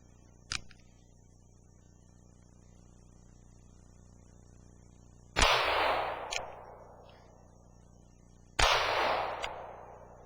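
A small North American Arms revolver fires twice, each sharp, loud report ringing out and trailing off over a second or so, spaced about three seconds apart, with a faint earlier click before them.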